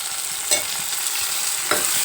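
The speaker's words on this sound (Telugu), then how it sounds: "టమాటా వేస్తున్నాం." Tomatoes frying with onions and green chillies in a pan for an okra curry. A steady close sizzle runs throughout, with two brief stirring scrapes and no voices.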